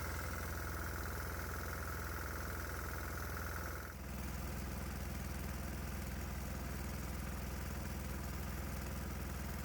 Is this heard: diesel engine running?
yes